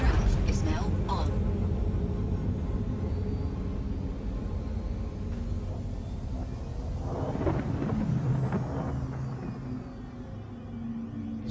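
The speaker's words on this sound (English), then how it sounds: "Quantum drive is now on." The quantum drive in the space game Star Citizen 3.5 runs as a deep, steady roaring rumble with a hissy top that holds loud and unbroken throughout.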